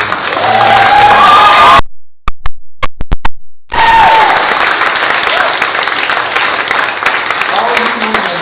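Audience at a Quanah, Texas town hall clapping loudly, with a sharp gap of near-silence broken by a few scattered claps, then the crowd noise and clapping returning; voices call out over it.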